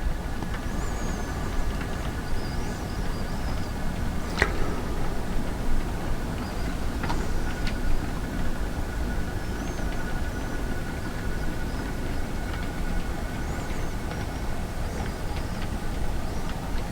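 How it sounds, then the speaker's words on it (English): An old model train with upgraded couplings rolls along its track, a steady low rumble with faint wheel clicks and an occasional sharp clack, heard alone. "it rolls along and behaves nicely with the new couplings"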